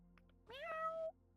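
A cat gives a single clear meow, rising then gliding down and fading out, heard fairly faint against a quiet indoor background with a couple of soft ticks just before.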